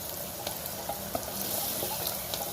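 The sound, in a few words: onions frying in oil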